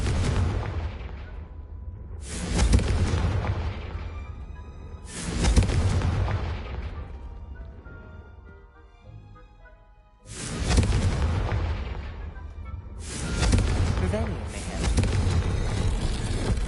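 Confringo blasting-spell explosions in Hogwarts Legacy: four heavy booming blasts spaced a few seconds apart, each hitting hard and then rumbling as it fades, loud and close.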